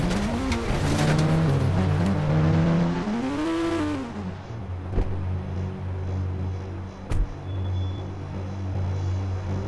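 A G-Wagon in a video game rumbles with a loud engine that climbs in pitch as it revs, then settles into a low, steady idle, broken by a couple of sharp clicks and no talk.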